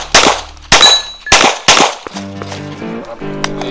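Four sharp, loud gunshots in quick succession ring out at dynamic shooting practice, each followed by the metallic clang of bullets striking steel targets, with ringing tones lingering afterward.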